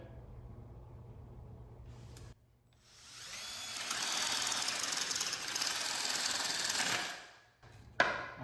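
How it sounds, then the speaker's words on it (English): A spade bit drills holes in wood for recessed ceiling lights, a loud steady whining drill sound rising for about four seconds and then stopping, with quieter handling noise before and after. "I find the cleanest holes are with a spade bit"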